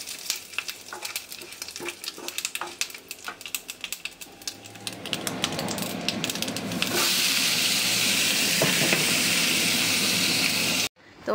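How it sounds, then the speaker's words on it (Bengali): Whole spices for a mango chutney sizzle in a hot wok: dried red chillies, bay leaf, mustard seeds and panch phoron. Scattered crackling pops build into a loud, steady frying hiss that runs on, then cuts off abruptly near the end. "আর এদিকে কড়াইতে ফোড়ন দিয়ে দিয়েছি আমের চাটনি করবো বলে।"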